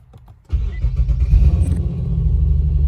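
A 2014 Infiniti Q50s cranks and fires up after a brief quiet moment, settling into a loud, close, rumbling idle; the wrecked car has an exhaust leak.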